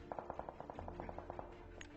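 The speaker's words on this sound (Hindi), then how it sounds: "अब फिलहाल यहाँ पर एक शॉट पड़ा" Rapid automatic gunfire from a weapon in PUBG Mobile on a military base map, a fast train of about a dozen sharp evenly spaced shots followed by a few scattered reports under game ambience.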